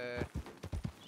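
Horse hooves in the El Rancho RP video game clop in a quick run of about five close, loud strikes, evenly spaced over a single second.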